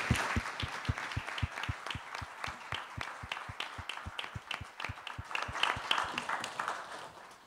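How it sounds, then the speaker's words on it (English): Symposium audience applauds the panelists, with one close, rhythmic clapper standing out over a softer, scattered crowd behind, lasting several seconds. "Let's applaud our panelists."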